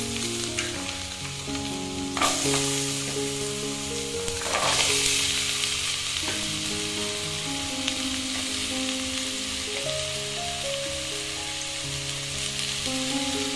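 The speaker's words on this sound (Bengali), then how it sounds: "তেলটা গরম হয়ে গেছে। এবার আমি কেটে রাখা আলুগুলো ভেজে নেব।" Cut potatoes frying in hot mustard oil in a pan, a continuous bright sizzle with occasional louder bursts and clinks of a utensil, steady and close with no talking.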